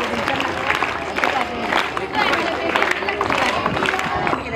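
Loud, steady applause from a crowd of students at a Teachers' Day school assembly, Shri Malganga Vidyalaya in Nighoj, with dense continuous clapping and a background murmur of voices.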